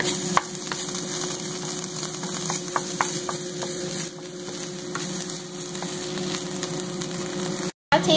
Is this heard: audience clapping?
no